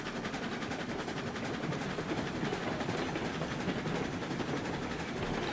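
A Mosca steam locomotive pulls a loaded train in the RailRoads Online game, giving a steady rolling rumble with rhythmic clickety-clack of wheels over rail joints, moderately quiet and continuous, with no talk.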